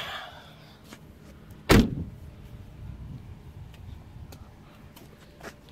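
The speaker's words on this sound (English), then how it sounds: "pop the trunk." A single sharp pop as the trunk of a 2009 Pontiac G6 springs open, one loud close thud followed by a short fading rattle over a low background hum.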